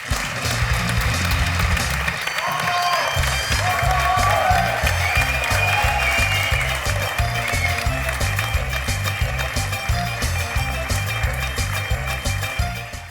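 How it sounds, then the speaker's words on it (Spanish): Applause and cheering from a crowd greet a guest at a live interview event, loud and sustained over thumping rhythmic music. "Un aplauso para Ixabre Romanos"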